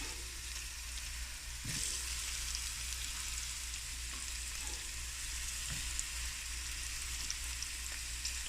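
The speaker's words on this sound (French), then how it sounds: "je pense que mon huile est pas mal chaude. Je vais ajouter les oignons." Onions and peppers fry in hot oil in a pan, giving a steady close sizzle with a soft crackle throughout and a few brief louder pops; no one speaks.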